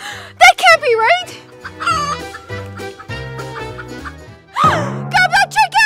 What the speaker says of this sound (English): That's not our puppy. That's a chicken.